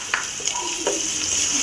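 Onions frying with ginger-garlic paste and fenugreek leaves for a broad bean curry, a steady sizzle with a few scraping stirs of a spoon through the pan, close and continuous.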